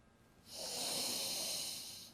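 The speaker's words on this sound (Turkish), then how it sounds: "Üç kez derin derin soluyoruz." One long, deep breath drawn in and let out, a steady airy hiss that swells over about a second and a half and then eases, alone with no talk.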